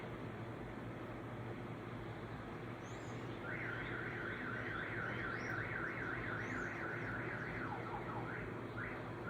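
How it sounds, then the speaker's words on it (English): Car alarms going off outside, a rapid warbling siren that rises and falls repeatedly from some distance away, heard over constant low background noise with no speech. "Got alarms going off outside."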